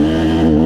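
A KTM 200 EXC two-stroke dirt bike engine, poorly tuned, runs loud and close in a brief, steady buzzing burst with a slight rise in pitch.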